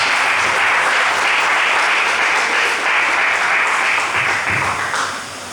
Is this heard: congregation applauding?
yes